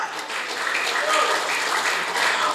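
A crowd at a political party event in Bekasi, Indonesia claps together in a dense, steady wash of applause that holds at an even level.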